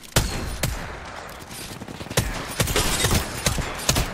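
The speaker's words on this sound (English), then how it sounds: "I am taking fire, friends." Bursts of gunfire in a first-person shooter video game, sharp loud shots popping at an uneven rhythm over a dense battle backdrop, with several close reports near the end.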